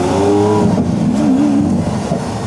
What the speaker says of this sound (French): La petite fenêtre pour entendre le V12.